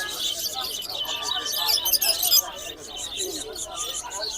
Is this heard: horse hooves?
no